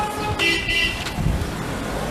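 Heavy car traffic in Cairo, with several car horns tooting close by over a constant roar of engines and road noise.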